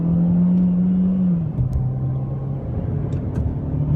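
A 2014 Chevy Sonic LT in ordinary driving: a close, steady engine hum from inside the cabin that drops in pitch as it shifts partway through, with road rumble underneath.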